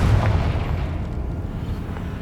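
A Confringo blasting spell goes off in Hogwarts Legacy as a steady, loud, low rumbling boom that fills the whole moment with no speech over it.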